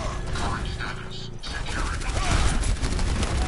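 Rapid turret gunfire from Bastion in the video game Overwatch, a dense continuous burst of shots with mechanical clatter, loud and close, under game noise and a voice talking.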